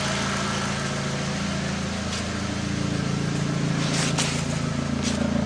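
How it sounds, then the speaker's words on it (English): A 1.8T Mk4 Jetta engine with new ignition coils idles smoothly and evenly at close range, a steady low hum with no talking. "It's idling perfectly."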